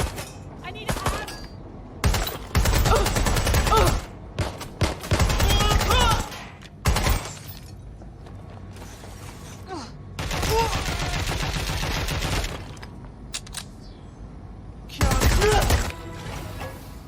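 Heavy suppressive gunfire in the Watch Dogs Legion video game: loud, dense bursts of rapid shots come in several clusters separated by brief lulls, with voices calling out now and then.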